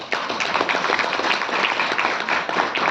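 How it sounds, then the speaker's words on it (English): Applause from a business forum audience in Kenya, a dense steady patter of many hands clapping close and loud throughout, with no voices over it. "Another round of applause."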